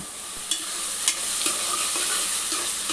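Onion paste and turmeric frying in a pan for bagara chicken curry, giving a steady high sizzle with a few soft scrapes of a spoon, close and moderately quiet, with no talking.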